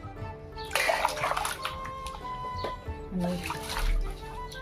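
Potatoes for wafers are washed by hand in water, giving sloshing, splashing and trickling sounds close by, with a short spoken word heard briefly over them.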